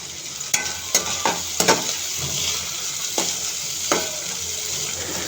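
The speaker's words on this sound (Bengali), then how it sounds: "ছুঁড়ে দিলাম কুচি করা পেঁয়াজ আর রসুন হালকা সিজলের শব্দটা কানে এলে মনটা ভালো হয়ে যায়" Chopped onion and garlic sizzle in hot frying oil, giving a continuous close hiss broken by several sharp stirring scrapes and knocks of the utensil against the pan.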